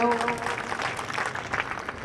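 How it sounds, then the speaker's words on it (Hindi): An audience at a protest gathering claps in a dense, steady burst of applause with some voices mixed in. "पहले तो उनके लिए जोरदार ताली बजाओ"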